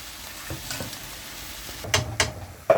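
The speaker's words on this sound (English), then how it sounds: "fry up the black beans" Soft frying sizzle of black beans in a pan with a few sharp scraping stirs near the end, close by, no talk.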